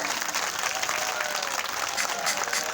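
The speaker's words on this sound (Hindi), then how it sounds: "जोरदार तालियां।" Loud, dense applause from a crowd at a Shrimad Bhagavat katha, steady and sustained throughout with no talking over it.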